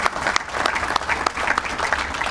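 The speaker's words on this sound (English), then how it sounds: "So let's give them a round of applause" Military audience at a Fort Campbell change of command ceremony applauds a color guard, loud and close, with uneven bursts of claps rolling over one another.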